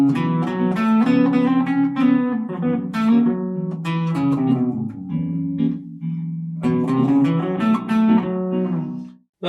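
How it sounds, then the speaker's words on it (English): A guitar runs slowly up and down a blues scale, a pentatonic with an added flat five, the notes sustained and ringing over one another in a clear, close run with no talk. "What we're going to do is add the flat 5 into our pentatonic scale."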